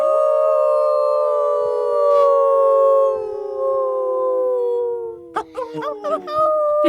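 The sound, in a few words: group of people imitating a wolf howl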